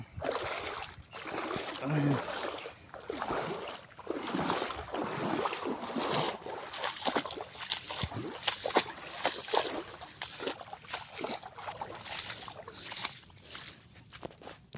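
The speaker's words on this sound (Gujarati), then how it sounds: "ફાઇનલી મિત્રો આપણે પાણી પાર કરી લીધું છે." Someone wades through knee-deep rainwater on a farm path, sloshing and splashing in a continuous close, uneven rhythm with breezy outdoor noise around it.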